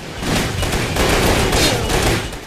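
Gunfire from three guns at once in the action game WET, a loud dense stream of overlapping rapid shots pulsing steadily throughout, close and alone without any talk.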